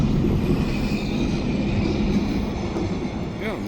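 Train cars being shunted into position for switching, heard outdoors as a steady loud low rumble of rolling wagons with a faint wheel squeal near the end and some voice in the background.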